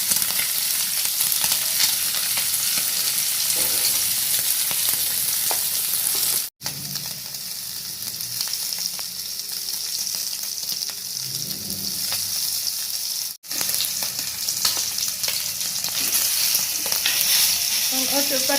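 Pork fries in a pan with no added oil, cooking in the fat it releases, giving a loud, steady, close sizzle that runs throughout with two very brief breaks.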